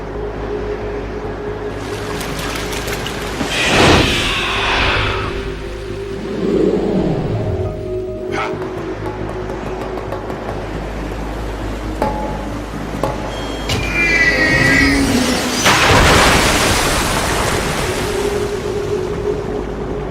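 In Metal Gear Solid 2, the giant mech Metal Gear RAY races across water, heavy surging splashes and rushing spray swelling in loud waves, with metallic whines and booming impacts amid a constant roar.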